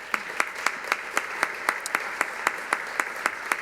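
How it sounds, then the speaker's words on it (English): Applause at a home design awards event, heard as a run of sharp, evenly spaced claps standing out over a soft background wash, fairly close and steady in rhythm. "Can we please give our sponsors a round of applause?"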